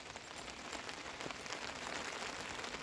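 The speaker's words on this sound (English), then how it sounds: "Yeah, still raining." Steady, soft rain pattering with a continuous gentle hiss and occasional faint drips, no voices.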